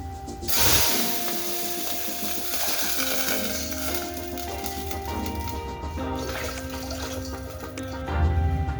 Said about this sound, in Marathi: मग टाकूया पाणी.